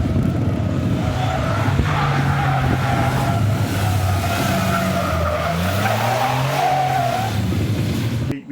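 An off-road buggy's engine revs steadily on an off-road course while tires skid and squeal on loose ground, loud and close, with pitch rising and falling.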